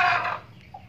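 A single Aseel hen sitting on eggs gives a short, drawn-out cluck up close, fading quickly into quiet with a faint second note near the end.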